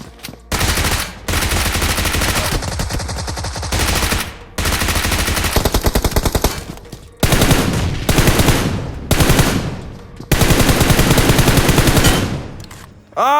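Automatic gunfire in the mobile battle royale game BGMI (PUBG Mobile), long loud bursts of rapid shots separated by short pauses, dense and continuous with no talking over it.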